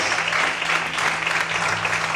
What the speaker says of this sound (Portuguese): abre a boca e adore o Senhor e aplauda a Deus nesta noite